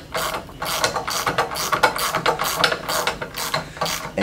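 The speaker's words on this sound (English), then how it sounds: "go ahead and tighten all our bolts around the whole motor" A socket set ratchet tightening bolts around a pump's motor during assembly of the pump's power end, giving quick rhythmic clicking strokes in short bursts, close and clear with no talk.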